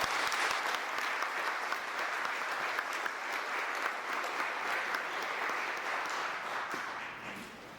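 A corporate lecture audience claps to welcome a professor to the stage, a sustained, even wash of many hands for several seconds, close and full, tapering off slightly at the end.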